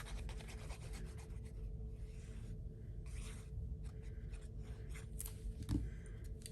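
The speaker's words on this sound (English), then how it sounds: "Then we're gonna place this on our card base." Paper is rubbed and scraped against a card base in soft, irregular strokes, close and quiet with no voices.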